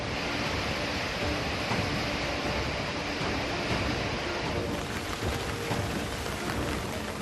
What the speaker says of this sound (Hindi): पानी का तेज बहाव सब कुछ बहा ले जाने पर आमादा है।